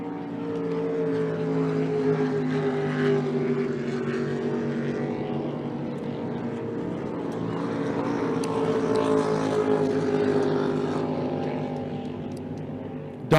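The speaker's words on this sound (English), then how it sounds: "Let me know if you guys can hear those engines." Racing boat engines roar through a regatta boat race, a sustained loud drone with steady harmonic tones that swell and fade slightly as boats pass, heard alone without talk.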